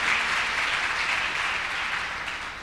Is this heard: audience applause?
yes